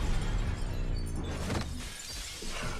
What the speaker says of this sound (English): Bam, breaks through the glass.